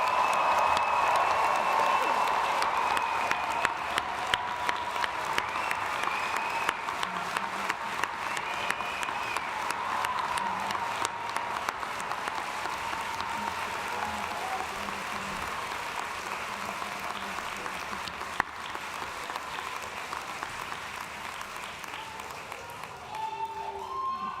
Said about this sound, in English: join me in one more time giving these graduates one more round of applause